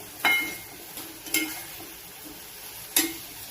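Moong, matki, masoor and chavali beans stirred in a pan with a little oil give a soft, steady sizzle, broken by three brief scraping clatters of the spoon against the pan.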